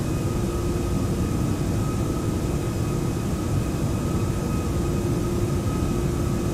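Jet engines of a Toliss A340-600 airliner in the X-Plane 11 flight simulator, spooled up for takeoff: a steady, loud, broad roar with a faint whine running through it.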